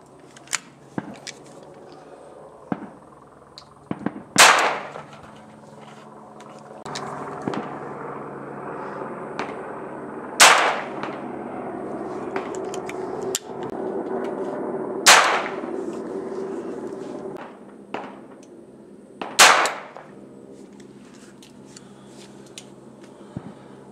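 Five sharp, loud reports ring out at spaced intervals as .22 LR rounds are fired from a 12-gauge shotgun outdoors, with quieter handling clicks and rustling between shots.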